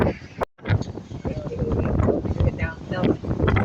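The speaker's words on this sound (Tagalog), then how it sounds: "Medyo malakas yung hangin." Strong monsoon wind buffets the microphone in a constant, rumbling roar, with a voice speaking partly under the gusts.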